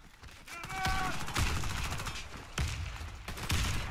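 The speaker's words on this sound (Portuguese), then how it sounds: "Tomando tiro aqui do Sirigone." Saiga bullpup shotgun fire in the game Warface comes as several loud sharp blasts mixed with other gunfire, while a player talks over the shooting.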